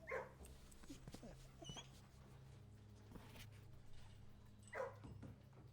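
A puppy in a house simulator video game gives a few short, quiet yips and barks, with a low steady game hum underneath.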